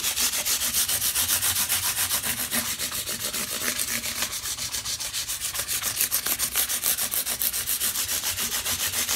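Nickel banjo frets are sanded by hand with 600-grit sandpaper in quick, even back-and-forth strokes. The soft, close scratching rasp keeps a steady rhythm throughout.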